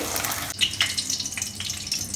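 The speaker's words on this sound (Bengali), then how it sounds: "এখন মা ডিমগুলো দিয়ে দিচ্ছে, একটু ঝুড়ো ঝুড়ো করে এখন ডিমগুলোকে ভেজে নেবে" Eggs fry in a pan while chow mein is being made, giving a wet, hissing sizzle with a few brief scraping clicks from the spatula, close and fairly loud.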